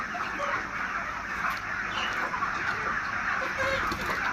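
Broiler chickens weighing over two kilograms cluck and chatter in a poultry shed holding about 3,500 birds, a steady close flock noise throughout.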